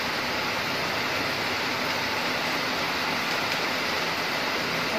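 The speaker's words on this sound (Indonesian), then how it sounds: "kebetulan ini hujan" Rain falls outdoors on a garden where peanuts grow in bucket pots, making a steady, even hiss that continues without a break.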